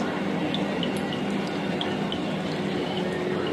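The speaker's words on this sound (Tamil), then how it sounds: "இங்க பாருங்க, எண்ணெய் சொட்டுது பாருங்க." Hot oil dripping from fried adhirasam pressed with a spatula, a faint sprinkle of small drips and soft sizzle over a steady frying hiss, close by and without talk.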